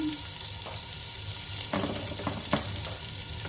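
Onion frying in a pan for a meat-and-vegetable dish makes a steady, loud sizzle, broken by a few sharper crackles and stirring clicks. No voices are heard.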